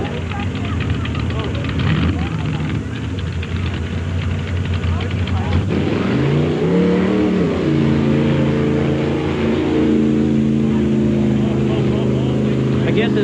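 A mud race car, the Mud Devil, powered by a 396 cubic inch Chevy with 33 Groundhog cut tires and a 1937 Fiat body, roars loudly and continuously at the season's last race. The engine revs up and down in rising pitch sweeps, with voices in the background.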